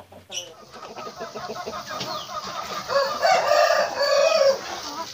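Free-range village chickens cluck and squawk up close, a busy run of calls with one hen's voice rising louder toward the end.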